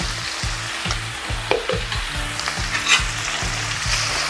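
Egg roast masala with garam masala fries in a pan and is stirred hard, a loud close sizzle beneath a steady, rhythmic low thumping scrape repeating about every half second, with occasional spatula clinks and no talking.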